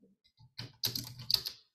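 Close computer keyboard typing: a few soft clicks, then a quick run of key presses building to several sharper taps, no speech over it.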